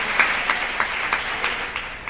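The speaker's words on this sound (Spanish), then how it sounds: "Ese aplauso para Él." A church congregation applauds together, rhythmic hand clapping in a steady beat filling the room, close and fairly loud.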